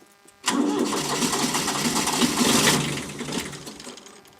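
A diesel engine cranks and catches after a brief quiet start, running loud and rough nearby for a couple of seconds before settling and fading toward a lower idle.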